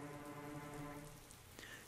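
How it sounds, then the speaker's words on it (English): Rain sound effect from the video game Tell A Demon, a soft, steady hiss of rainfall on surfaces with scattered droplet taps and a low musical hum beneath, faint and continuous. "And that was when it began to rain."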